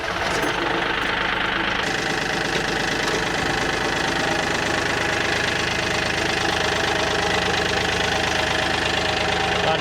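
A tractor's engine idles steadily and loudly throughout, with a continuous rough, knocking diesel rumble and no talking.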